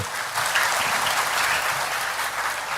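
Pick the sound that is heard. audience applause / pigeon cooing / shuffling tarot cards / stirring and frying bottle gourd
audience applause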